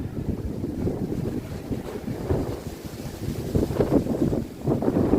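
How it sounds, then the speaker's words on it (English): Strong wind on the High Line in Manhattan buffets the microphone with a continuous low rumble that rises and falls in gusts, no voices. "It's getting windy. I know you could hear it."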